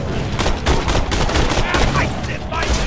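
Rapid automatic gunfire fills Borderlands: The Pre-Sequel as shots pass through cover, a loud, close, continuous stream of crackling bursts with a dense rattle throughout.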